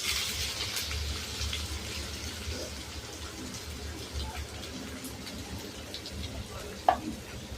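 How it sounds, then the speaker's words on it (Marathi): Onions frying in hot oil for egg bhurji, a steady close crackling sizzle throughout with one sharp clink near the end. "आणि आता कांदा परतून घ्यायचा आहे आपल्याला। पिंक होईस्तोवर परतवायचा आहे छान।"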